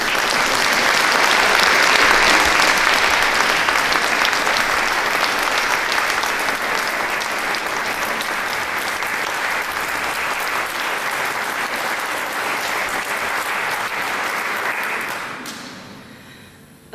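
An audience at the opening of an exhibition of painting on porcelain claps in a long, steady burst of applause that stays strong for about fifteen seconds, then fades and stops near the end.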